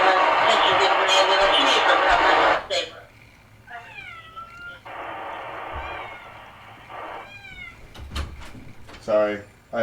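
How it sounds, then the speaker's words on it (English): House cats meow repeatedly at close range in a home room, several short rising calls following a burst of loud noise, with a person talking intermittently and some faint knocks. "Sorry, I have kitties in here too. They like to interrupt my progress here."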